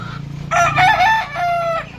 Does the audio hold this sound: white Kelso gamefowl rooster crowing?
yes